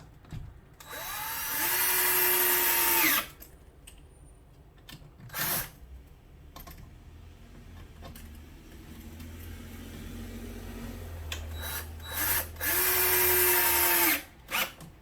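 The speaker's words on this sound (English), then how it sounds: "then I take my drill and go ahead and drill my support beams in." A power drill driving screws into wooden support beams for a garage shelf whines in two long, loud bursts at the start and end, with short trigger blips between and a low rumble underneath.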